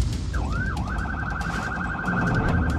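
A police vehicle's wailing siren sweeps up and down, then settles into a rapid warbling pulse, loud and close over steady rumble of congested highway traffic.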